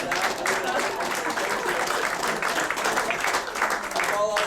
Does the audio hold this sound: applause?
yes